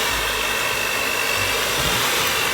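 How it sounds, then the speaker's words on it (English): An electric hand mixer beats butter in a bowl for Jamaican Christmas fruit cake, a steady close whirring motor hum that runs unbroken throughout with no talking. "I have this nice mixer, and I try to make the butter"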